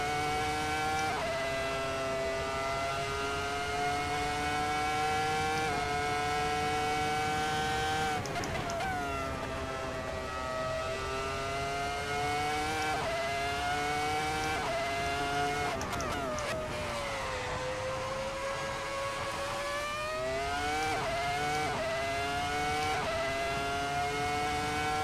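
A V10 engine swapped into a 2017 Ferrari SF70-H Formula 1 car in the Assetto Corsa racing sim, wailing at high revs with repeated upshifts and sharp drops on braking, loud and continuous throughout.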